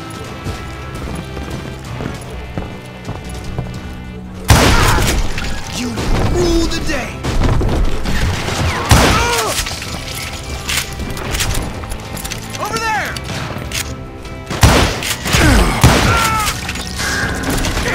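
Gunfire in the Western shooter Call of Juarez Gunslinger rings out as loud, sharp cracks and booms over busy game music and effects, with several distinct shots spread across the stretch.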